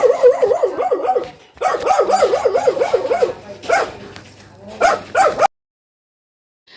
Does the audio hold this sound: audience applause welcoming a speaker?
no